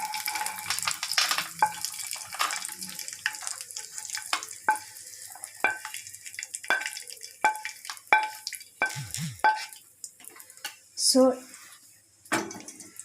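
Fried ingredients for a wheat-flour halwa are scooped from a pan into a bowl, heard as irregular metallic clinks and scrapes of a spoon against cookware, close and fairly sharp, with a louder clatter near the end.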